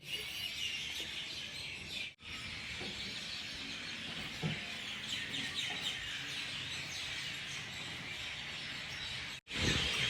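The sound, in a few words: birds chirping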